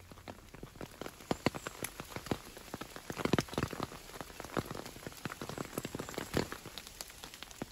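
Steady rain patters on a hard surface, with dense scattered drops and a few louder splashes throughout, close by and continuous.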